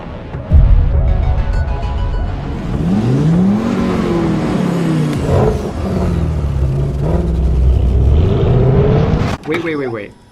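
High-performance Audi wagons drag race on an airstrip, among them an Audi RS2 and a new Audi RS6, with loud engines roaring and revving through rising gear pulls, close and sustained, as people talk over the noise.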